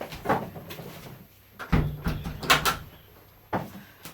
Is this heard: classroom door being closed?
yes